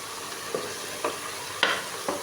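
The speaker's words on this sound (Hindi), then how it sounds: "लहसुन हमारा फ्राई हो गया अच्छे से" Garlic and onion frying in oil for haleem, a steady close sizzle broken by a few soft stirring scrapes spaced about half a second apart.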